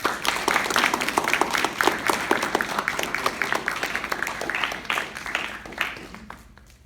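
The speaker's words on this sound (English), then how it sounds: "A big round of applause to Mr. Nguyen." Applause for speaker Anh-Quan Nguyen at a speaker series event. Dense, steady clapping fills the room, then thins and fades out over the final seconds.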